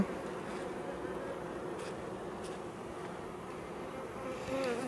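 Honeybees drone in a steady, dense buzz around opened beehives, close and continuous, with no voices.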